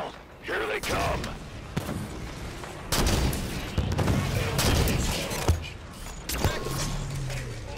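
Gunfire in the shooter Halo 5, with repeated sharp shots and impacts layered over mechanical clatter and a busy battle soundscape.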